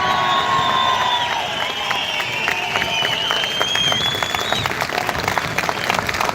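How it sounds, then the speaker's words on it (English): At a street demonstration in Dublin, a crowd claps and cheers in a sustained round of applause, with whistles and shouts rising over the steady clapping. "You all give a big round of applause."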